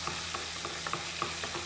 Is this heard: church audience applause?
no